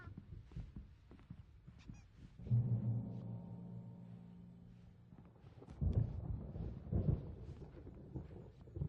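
A thunderstorm in the video game Alan Wake, with low rumbling thunder rolling in and swelling twice amid scattered thumps and crackles, fairly faint overall.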